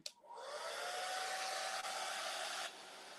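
A hair dryer blows steadily on fresh green paint on a quilted cross door hanger, starting abruptly and running as a continuous, fairly loud whoosh with a faint whine, then dropping slightly near the end.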